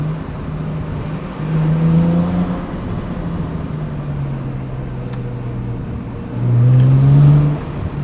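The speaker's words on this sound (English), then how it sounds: "Hearing this car accelerate is something special." A BMW 135i with the N54 engine pulls hard through two revving surges, each rising in pitch with a burst of louder intake and exhaust noise. Between the surges the car settles into a steady cruising drone.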